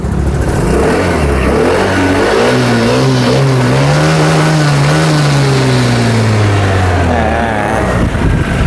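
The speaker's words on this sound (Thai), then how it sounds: "เดี๋ยวมาฟังเสียงเครื่องยนต์นะครับ" A loud 2020 Vespa GTS 300 Supertech HPE scooter engine revs up and then winds back down, its pitch rising and falling smoothly, close by with no voices.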